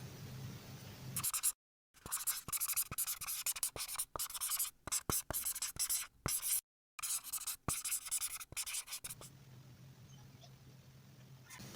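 Someone writes on a board in quick scratchy strokes, close and fairly loud, in rapid bursts broken by brief pauses before the room falls quiet.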